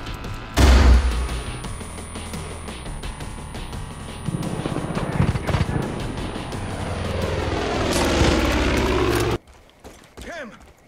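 Airplane engine in a Far Cry game, a loud sustained droning roar that swells and holds for about nine seconds, then cuts off abruptly into quiet.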